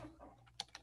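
Keystrokes on a computer keyboard, a few faint separate taps near the end of a short, quiet stretch with no talking.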